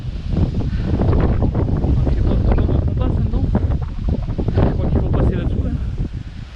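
Strong wind on the Aubrac plateau buffets the microphone in a loud, continuous rumble, with a voice speaking beneath the gusts.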